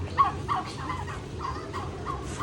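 Turkeys kept along a village path near the sea gobble in a few repeated bursts, moderately close, over a low rumbling outdoor background.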